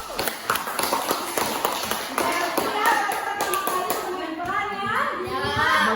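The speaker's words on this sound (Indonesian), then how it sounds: "Tepuk tangan buat kelompok 1." Students in a classroom clap for a student group after its presentation, a quick scattered patter of hands close by, with children's voices and chatter rising over it in the second half.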